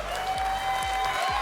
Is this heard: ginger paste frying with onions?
no